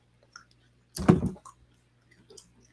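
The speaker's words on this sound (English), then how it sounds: "I got a little snap, but it's not the best for snapping, this soft sticks." Soft stick chewing gum gives a single short, quiet snap close to the microphone, with faint mouth clicks before and after in an otherwise silent space.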